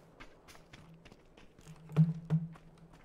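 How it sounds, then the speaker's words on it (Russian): Footsteps in a multiplayer shooter video game: a run of soft, evenly spaced taps, with two louder thuds near the end, over a quiet background. "Ходит? Слышал шаги?"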